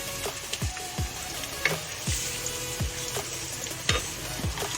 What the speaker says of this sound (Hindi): अब तेल गर्म हो गया, इसमें हम ये प्याज डालेंगे